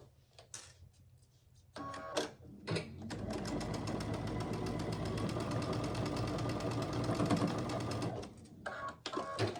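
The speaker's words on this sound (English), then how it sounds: "flip it over onto this one, and stitch down this line at 1/4 inch" Sewing machine stitching a quarter-inch seam on a quilt block, starting after a few soft handling clicks and then running steadily and close for about six seconds before stopping.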